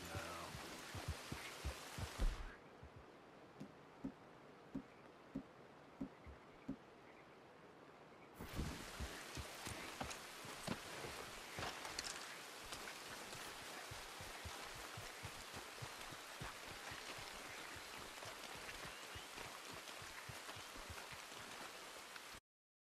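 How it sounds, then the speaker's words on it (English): Steady rain patters down across a marsh in Red Dead Redemption 2, dense and continuous with scattered heavier drops, easing briefly early on before returning at full strength and holding to the end. "It's raining, which helps."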